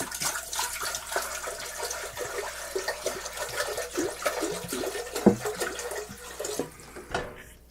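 Water is poured into a pot for a pineapple orange melomel, a soft uneven splashing and trickling that carries on steadily with small irregular bursts, fairly quiet and close.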